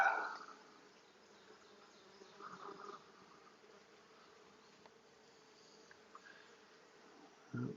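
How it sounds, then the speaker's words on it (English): Honeybees move inside an opened hive, a soft, faint, steady hum with brief louder rustles near the start and end, and no voices. "The bees are now taking it and bring it to the bottom of the hive again."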